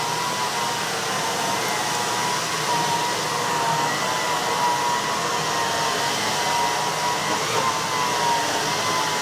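A vacuum cleaner with an upgraded hose and brush roll runs steadily and loudly, giving a continuous even whirring roar throughout with no talking.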